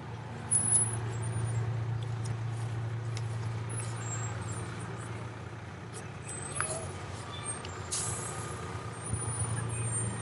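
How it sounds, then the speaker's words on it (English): Morton's Gap Fire Department Ladder 3 fire truck rolling past in a Christmas parade, a steady low engine drone with a brief hiss of air brakes and scattered higher crowd noise around it. "We've got the Morton's Gap Fire Department Ladder 3 truck coming through."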